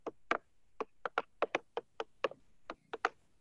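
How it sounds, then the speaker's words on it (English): A stick knocks on the hollow part of a tree outdoors, about a dozen sharp, resonant raps in an uneven rhythm, close and clear with no talking. "I want to check out what noise it makes if we knock the stick over on the hollow part."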